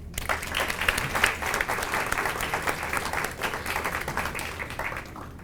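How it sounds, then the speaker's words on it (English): Steady audience applause at a community beautification awards ceremony, a dense, continuous patter of many hands at moderate volume with no voices over it. "Let's share a round of applause."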